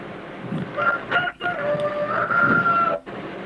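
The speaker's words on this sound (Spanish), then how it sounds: "Que el gallo lo confirme." A rooster crows nearby in a long drawn-out call with a brief break, loud and clear against a faint background, with no talking.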